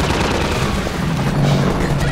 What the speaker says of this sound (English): God, what is shooting at me?